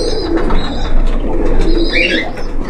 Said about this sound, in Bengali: এই পর্যায়ে আমরা সিলেটি কামাগার কবুতর দেখব